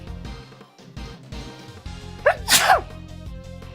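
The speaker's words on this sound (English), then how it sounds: "I'm gonna sneeze" A single person sneezes, an inhaled build-up followed by one sharp, forceful burst, heard clearly over steady background game music.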